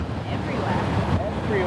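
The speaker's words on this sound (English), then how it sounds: "Waves everywhere." Ocean waves break and wash on a rugged coastline with heavy wind buffeting the microphone, a continuous loud rush.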